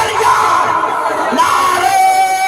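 A crowd at a religious gathering roars a chanted slogan in unison, a loud massed shout rising and falling over a couple of seconds, with a lead voice briefly audible.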